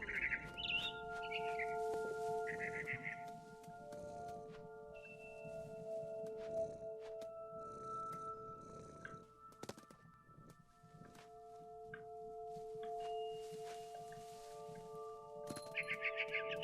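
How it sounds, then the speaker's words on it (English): A barn swallow chirps in the video game What Remains of Edith Finch, with short, bright bursts of chirping near the start and again at the end over a steady, humming tonal ambience. "I heard chirping outside my window. It was a barn swallow going back to her nest."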